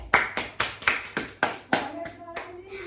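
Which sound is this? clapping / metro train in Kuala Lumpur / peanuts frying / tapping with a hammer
clapping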